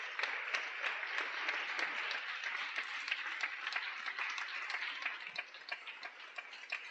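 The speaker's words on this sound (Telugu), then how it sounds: "ఏమండి, గట్టిగా చప్పట్లు కొట్టండి" A church congregation clapping during a worship service, a faint, somewhat distant patter of hands with a loosely regular rhythm that thins toward the end.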